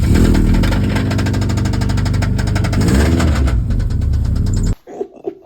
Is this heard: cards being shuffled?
no